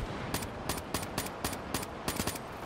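AK rifle fire in Call of Duty: Black Ops 3, a steady series of about eight sharp single shots at an even rhythm over constant background game noise.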